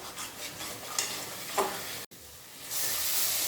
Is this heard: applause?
no